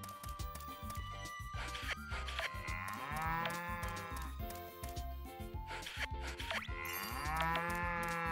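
Cows moo repeatedly in the Story of Seasons: Pioneers of Olive Town farming game, long drawn-out calls rising and falling over game background music, fairly loud and close, with no talk.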